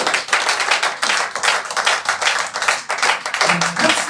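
A church congregation claps during a sermon, producing a loud, rhythmic run of sharp hand claps that is crisp and close, with a faint voice briefly rising near the end.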